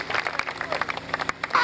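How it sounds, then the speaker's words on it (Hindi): A congregation at a healing convention applauds in a short burst of dense, uneven clapping from many hands, moderately loud and close. "Clap for Jesus for आइए her"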